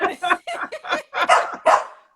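Several dogs bark in quick succession, close and loud, about seven sharp yips and barks in a rapid irregular run with no talk over them.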